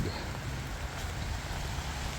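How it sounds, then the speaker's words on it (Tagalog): Heavy rain outdoors during a storm in New Zealand, a constant hiss of falling water with a low rumble underneath, fairly quiet and unbroken. "grabe, ulan oh. Kahit umuulan"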